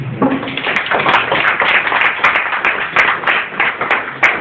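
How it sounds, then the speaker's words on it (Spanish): Church congregation applauding in bright, sharp claps. The rhythm is brisk and fairly even and stays close and loud the whole time. "Den un aplauso al Rey."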